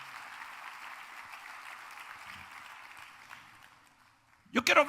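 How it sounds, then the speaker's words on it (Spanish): Church congregation applauding for the Lord, a steady wash of clapping from many hands lasting several seconds, fading out before a louder close sound at the end. "Dale un aplauso al Señor antes de sentarte."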